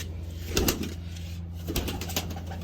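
Pigeons kept in a home loft coo softly against a low, steady background hum, with a few faint clicks and rustles of movement among the birds.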